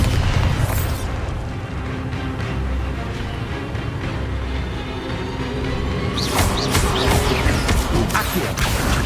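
Repeated Confringo and Bombarda spell blasts in Hogwarts Legacy, dense crashing explosions layered over a continuous rumbling game mix, swelling louder and sharper in the final few seconds.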